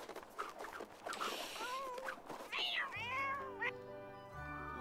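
Cat meowing in a video game, several wavering meows in a row, fairly loud and close, over scattered game noises and a low musical tone toward the end.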